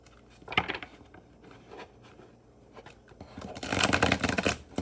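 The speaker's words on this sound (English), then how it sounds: "I actually like the flipping of cards, especially on surfaces like this." Tarot cards are shuffled and flipped onto a hard surface: soft papery riffles and slaps come in short bursts, then a denser, louder flurry of shuffling near the end, close and otherwise quiet.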